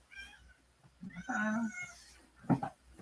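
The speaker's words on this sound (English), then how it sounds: "Oh, my cranky kitty, Scarlet." Scarlet, a cranky pet cat, meows up close indoors: one drawn-out, whiny meow and then a shorter, sharper one, with quiet moments between them.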